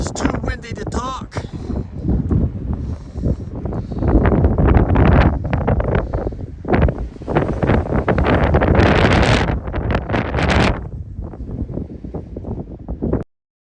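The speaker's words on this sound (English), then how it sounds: "It's really windy, gusty, almost takes your breath away" Strong, gusty wind roars and buffets the microphone on a high mountain trail near Idyllwild on the Pacific Crest Trail, loud and continuous with surging gusts and brief lulls, with no voices.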